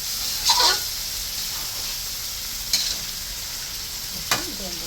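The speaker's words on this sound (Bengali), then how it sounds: "এখন তেলের তেলটা এখন ঢেলে দেবে। খুব সুন্দর করে কষে নিচ্ছে অনেক সময় পর্যন্ত।" Chicken pieces being sautéed in spiced oil in a pan for chicken kosha, a steady sizzle running throughout with a few sharp scrapes of stirring standing out above it.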